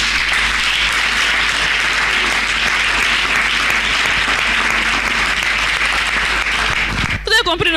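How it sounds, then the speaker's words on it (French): A church congregation claps and cheers loudly and steadily for several seconds, a dense wash of applause that cuts off near the end. "Vous pouvez acclamer."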